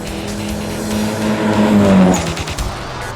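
Turbocharged drag race car fires up and accelerates hard at a drag strip, a loud rising engine roar with a spool-up whine peaking near the middle, then fading slightly as it pulls away.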